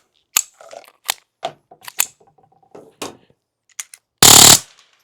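A TX-22 rifle fitted with a 3D printed silencer fires several suppressed shots as sharp, spaced cracks, then one longer, louder burst near the end, heard close with no talk.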